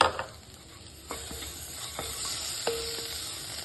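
Chopped tomato sautés in a pan with spices for soybean kurma, a soft continuous sizzle broken by a few sharp stirring scrapes and taps, close and with no voices.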